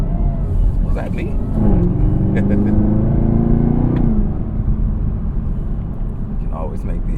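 A Chevrolet ZL1 Camaro with a 10-speed automatic revs loudly from inside the cabin, engine note rising and falling with a rumbling exhaust, while someone talks over it.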